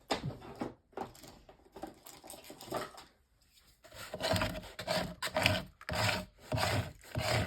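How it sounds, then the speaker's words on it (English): A scraper rasps repeatedly across a paper mache gingerbread recipe box, short gritty strokes in uneven bursts with brief pauses between, close and clear with no talking. "And let me get my scraper."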